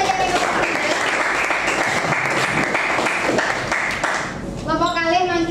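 Applause from a classroom audience for a student group after their presentation, steady dense clapping for about four seconds before it thins out as a voice begins speaking.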